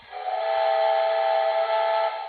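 A single steady steam whistle from an HO scale model Santa Fe 3755 locomotive blows for about two seconds, a clear reedy chord with a slightly thin, small-scale tone, heard alone.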